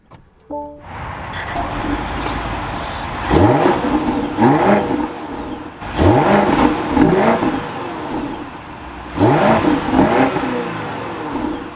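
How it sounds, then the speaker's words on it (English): A 2025 BMW X6 M60i xDrive engine cranks and fires up, then revs repeatedly in rising surges, loud and close, settling between each burst of throttle. "let's fire this up and take a listen to this M60i"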